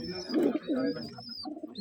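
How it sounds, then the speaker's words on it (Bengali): Rajshahi Giribaz pigeons coo close by in a short burst of soft, throaty, rolling calls, with a thin whistling tone in the background. "এখানে এক পিস কবুতর আছে খুব সুন্দর"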